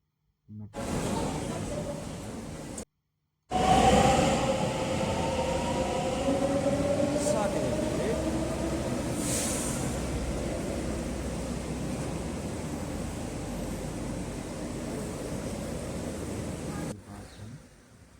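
A metro train at a station hums and rumbles steadily, with rising electric motor whine as it moves, and some people talking faintly in the background.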